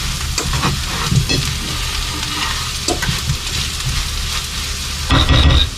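Bacon jam cooking down with sugar in a pan, stirred with steady scraping strokes over a constant loud sizzle, with a sharper burst of frying near the end and no talking.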